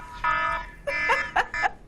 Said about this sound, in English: Another fire alarm.